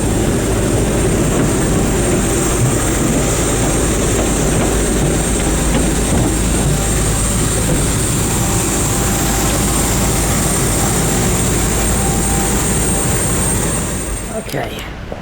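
Inside the cabin of a BA CityFlyer Embraer 170 airliner flying from Belfast City to London City, the engines and airflow make a loud, constant roar with a thin high whine on top, easing slightly near the end.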